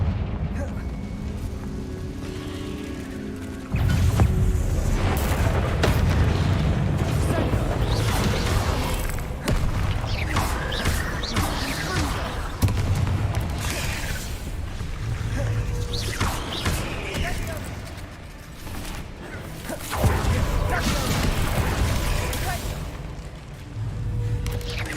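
Repeated booming blasts of a Confringo fire spell in a Harry Potter–style wizard game burst out loudly over roughly 25 seconds, mixed with crashing debris, game music and a voice calling out spell names.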